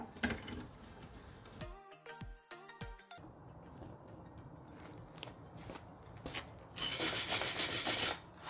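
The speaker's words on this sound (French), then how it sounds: "en ayant passé la brosse à laine d'acier dessus" A steel wool brush scrubs a muffler fitting during a muffler replacement, giving soft rasping rubs in short bursts, close and faint, with a louder scrubbing spell near the end.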